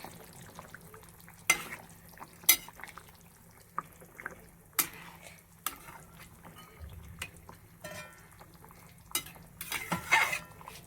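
Murli fish oil going into a pan for a fish curry: a quiet, close bed of frying with several sharp clinks and scrapes of the utensil against the pan, growing busier toward the end, with no voices.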